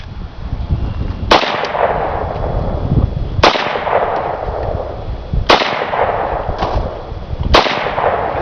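Four loud, sharp rifle shots from an AK-47 or AR-15 crack out at roughly two-second intervals outdoors, each leaving a long rolling echo that fades before the next.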